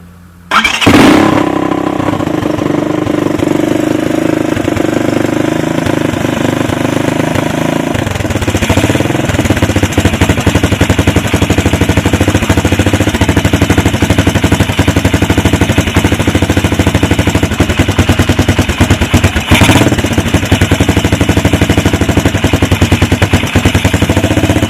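A 1996 Suzuki DR200SE motorcycle engine starts up and settles into a loud, steady, slightly uneven idle close by, running continuously with a small change in tone partway through.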